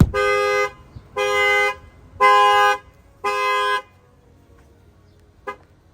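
The factory alarm on a Dodge Charger, set off by an added shock sensor, sounds four loud, even horn blasts of about half a second each in a steady rhythm, then goes quiet apart from a faint click.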